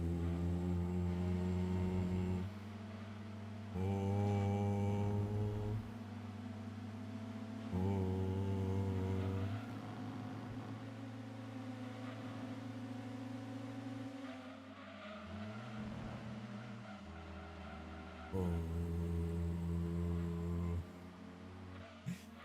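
A Mini Cooper in Gran Turismo 2 drones with a steady buzzing engine note that climbs through the revs, drops at each gearshift and climbs again, with brief tyre squeal and no talk.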